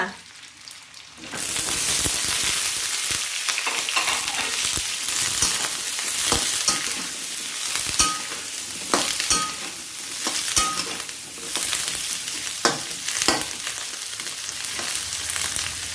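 Snow peas and shrimp stir-fried in hot oil give a loud, dense, continuous sizzle, broken by scraping stirs and clatter of the utensil against the pan, close up.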